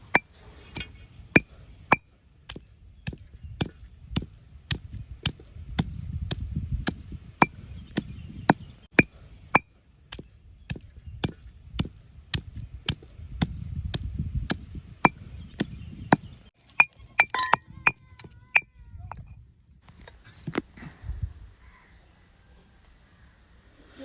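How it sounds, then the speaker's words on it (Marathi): Garlic, ginger, green chili and coriander pounded in a stone mortar with a pestle outdoors: a steady rhythm of sharp, close knocks, about one or two a second, with soft crushing thuds between and no talk. "इथे वाटण करण्यासाठी लसूण आलं मिरची आणि कोथिंबीर घेतलेली आहे त्याचं खलबत्त्यामध्ये वाटण करून घेऊया"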